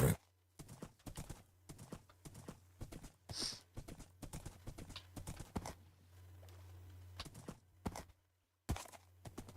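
Minecraft horse hooves clip-clop in quick, irregular steps, with a brief high neigh early on, set over a low ambient hum.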